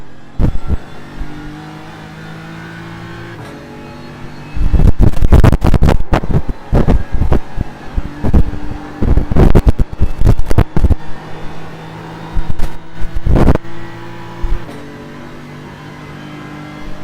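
Race car engines on the Nürburgring in iRacing, a steady mid-pitch drone with repeated loud revving bursts and gear changes, close and dominant, no talk.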